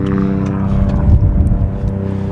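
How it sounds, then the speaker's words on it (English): A 2021 Ford Mach-E GT electric car at cold start gives a steady, moderately loud low hum with tonal whine layered through it, swelling briefly midway and then settling, with no voices. "Here's cold start 2021 Mach-E GT."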